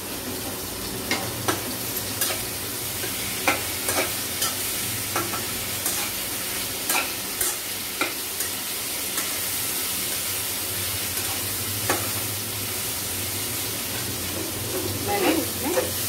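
Mustard seeds, cumin and garlic sizzling in hot oil in a pan, a steady hiss with scattered pops and crackles, close by, with occasional stirring and voices talking faintly in the background.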